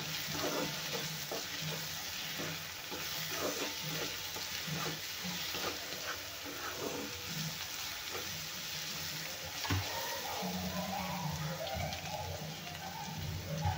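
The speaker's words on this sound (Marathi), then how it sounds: "छानपैकी परतून घेऊया व्यवस्थित।" Food is sautéed and stirred in a pan, with a continuous close sizzle and frying crackle broken by repeated scraping strokes of the spoon, and no voices.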